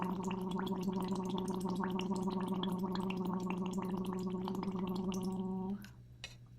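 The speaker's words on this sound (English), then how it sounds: "The other way you can work on that sound is by doing that same process, but into some water, which creates a little bit of a bubble and some resistance." A voice hums a steady tone through a straw into water, the held pitch buzzing alongside a continuous bubbling gurgle for several seconds before stopping abruptly, leaving a faint drip-like trickle.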